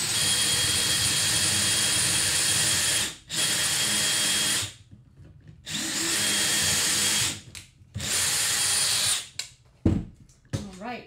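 A power drill bores pocket holes in wood for a grill cart frame, with several loud, close, sustained whirring bursts separated by short pauses and a voice talking briefly near the end.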